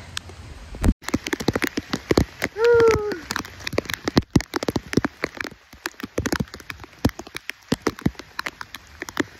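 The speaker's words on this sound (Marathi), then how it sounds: "हे जोरात पाऊस सुरू झाला आहे" Heavy rain at Karnala Fort comes as dense, irregular close-up drops and taps striking a nearby surface, with a brief tonal sound early on and no clear speech.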